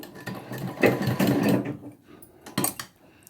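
A sewing machine stitches around a curved neckline, turning the fabric as it goes, with bursts of fast mechanical whirring that pause briefly between runs, fairly close and alone without talk.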